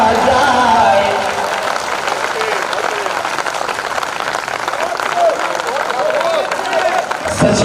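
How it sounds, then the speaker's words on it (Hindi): Loud audience applause fills a mushaira poetry gathering in Banaras, dense clapping with crowd murmur, sustained steadily for several seconds before cutting off abruptly near the end. "तालियां कमजोर है"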